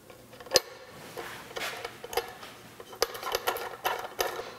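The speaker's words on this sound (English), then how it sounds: "we'll take one of the quarter 20 screws and we'll put a washer on it" A steel quarter-20 screw and washer are set onto a lathe jig in a workshop, giving sparse, faint metallic clicks and taps with a few small clatters, quiet and close, with no talk.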